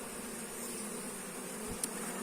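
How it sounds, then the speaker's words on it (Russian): Honeybees fly around a hive at an apiary during a honey flow, a steady close swarm buzz with one bee briefly zipping right past. "Они же куда-то, эти пчелы, интенсивно летают"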